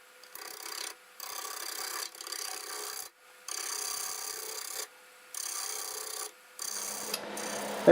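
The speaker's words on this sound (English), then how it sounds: "then it's probably time to do some sanding" Sandpaper rubbing against a spinning cherry burl turning on a wood lathe, a steady raspy hiss in several passes of about a second or two each, separated by brief pauses, fairly close and alone.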